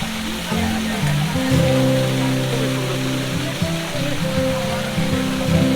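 Waterfall at Himchari park plunging steadily, a broad continuous rushing roar close by, with a low hum of people talking over it.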